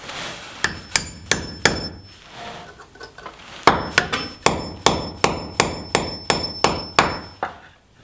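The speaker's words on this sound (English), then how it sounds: "Then take my hammer" Repeated sharp metallic hammer strikes driving a nut onto a bolt, a quick burst of four, a pause, then a steady run of about a dozen evenly spaced blows, close and loud.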